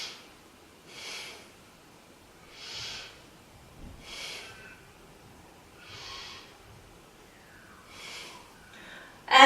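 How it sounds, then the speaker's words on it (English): Slow, deep yoga belly breaths, about five soft airy exhalations spaced a couple of seconds apart, close and quiet with no voice. "3 breaths into the belly."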